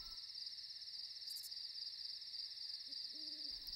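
Crickets chirp at night in a Budapest wild area, a steady high continuous trill throughout, while an owl hoots faintly near the end.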